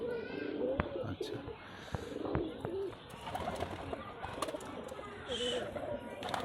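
Domestic pigeons cooing softly in a loft in Rajshahi, low repeated coos mixed with chirps and rustling, under a voice speaking nearby.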